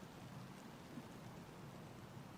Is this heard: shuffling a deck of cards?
no